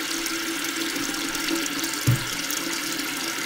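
Water rushes steadily as a toilet tank refills through a newly installed fill valve, a constant close hiss with a brief thump partway through.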